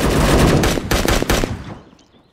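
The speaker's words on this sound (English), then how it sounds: "Someone just shot." Gunfire in a multiplayer shooter video game: a burst of rapid loud shots followed by a few more separate cracks, then fading into quiet.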